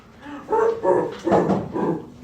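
Several short, excited dog barks and yips burst out close by, overlapping in quick succession with a whiny edge.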